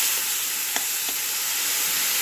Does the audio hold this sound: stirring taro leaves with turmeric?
yes